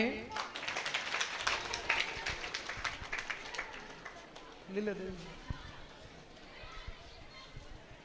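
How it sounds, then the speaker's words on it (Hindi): Scattered audience clapping at a government senior secondary school annual function and donor honouring ceremony, brisk hand claps that thin out, mixed with children's chatter and a voice speaking. "जोरदार तालियां।"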